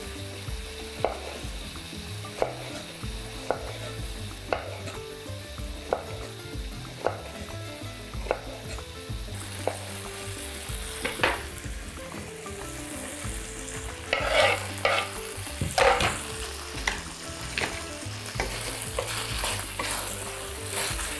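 Sliced chili pepper rings fry in a pan, with a steady sizzle under repeated scraping stir strokes that come in a regular rhythm and then grow busier and louder toward the end.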